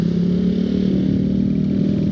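A motorcycle engine revs steadily and close up on a Sunday-morning ride, a continuous mid-pitched throbbing drone held at a fairly loud level without talk.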